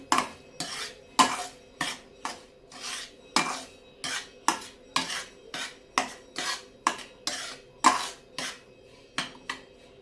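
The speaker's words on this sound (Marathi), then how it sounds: "चवीनुसार आणि प्रमाणानुसार पिठी साखर टाकूया आता हे आपण चांगलं मिक्स करून घेऊया एकत्र" Rava ladoo mixture with powdered sugar is stirred in a pan, producing a steady run of about twenty scraping, clinking strokes of a spoon against metal, close and fairly loud with no voices.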